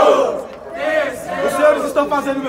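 Battle rap crowd in Brazil cheering and shouting together, a dense wash of voices and yells filling the space at close range, with individual shouts rising above the noise.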